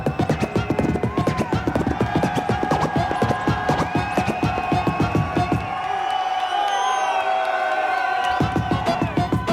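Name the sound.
crowd cheering during a DMC final set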